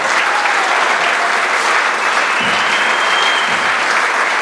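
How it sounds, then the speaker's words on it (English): Sustained, loud applause from a crowd at a student music performance fills the whole stretch, steady clapping with no voices standing out. "please give these students a round of applause"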